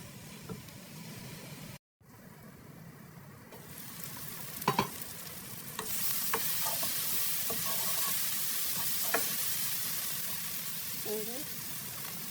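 Onion frying in a pan and being stirred: a steady close sizzle that swells louder partway through, with scattered scraping and tapping from the utensil and no talking.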